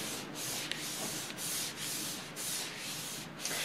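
Paper artwork is rubbed down firmly by hand onto a carving block, a close, steady scratchy rubbing in repeated back-and-forth strokes with brief pauses between them, no talking.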